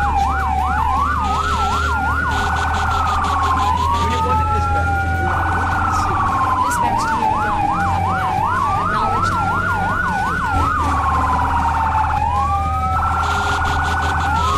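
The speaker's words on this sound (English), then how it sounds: "Let's hit our siren." A fire engine siren wails and yelps in Firefighter Simulator The Squad, loud and close, cycling between rising-falling wails, rapid warbles and a pulsing horn tone over a low engine rumble.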